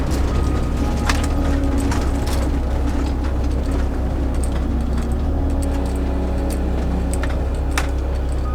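A four-wheel-drive vehicle crawls over uneven sand, rocks and ice on a land bridge in Acadia National Park, with a steady engine rumble under scattered clicks, knocks and crunches from the ground beneath.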